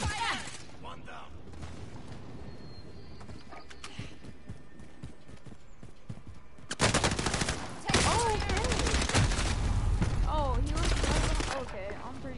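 Gunfire in the battle royale game Call of Duty: Warzone, dense bursts that get loud and sustained in the second half, with quieter scattered shots before; voices are heard in the mix.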